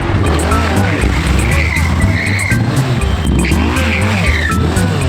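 A big, heavy Suzuki Hayabusa sport motorcycle slides off-road, its tires skidding and squealing over a loud, steady engine roar that runs without a break.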